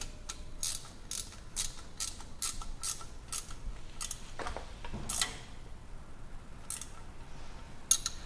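A ratcheting 12mm wrench tightens bracket bolts on a Toyota Tacoma, giving a quick run of crisp rhythmic clicks followed by a few scattered clicks and tool handling, fairly faint and close.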